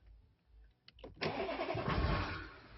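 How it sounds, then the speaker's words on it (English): A car engine with EGR and DPF cranks with a few quick clicks, then catches and roars into a steady idle, close and fairly loud. "I'm gonna start the car for you. Listen to the engine."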